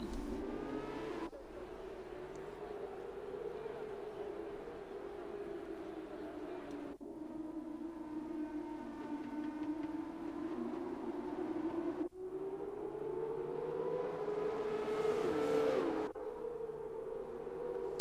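Race cars roll through a formation lap in an F1 video game at Saudi Arabia, a steady engine drone that rises and falls with gear changes and revs, fairly quiet and continuous, with a few abrupt cuts.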